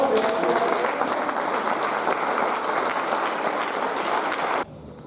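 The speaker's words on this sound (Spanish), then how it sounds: "le damos un aplauso, por favor" Audience applause after a doctor's talk on the harmful effects of psychoactive substances, steady clapping from a crowd for about four and a half seconds before cutting off sharply to quiet room tone.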